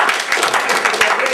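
Audience applause at a stock presentation event, brief and fairly close, with overlapping claps under a speaking voice.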